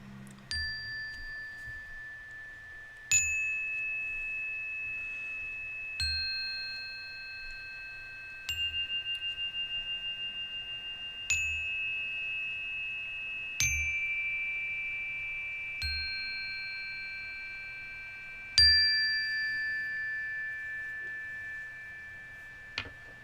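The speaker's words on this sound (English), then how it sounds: "let's play a little chime for this new moon" Bright metallic chime strikes ring out alone, roughly seven or eight struck tones spaced a few seconds apart, each sustaining with long shimmering decay and overlapping into the next, played for a new moon.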